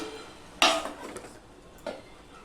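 A lid set down on a cooking pot of a vegetable curry, one clear metallic clank followed by a softer knock, close and fairly quiet over low background hiss.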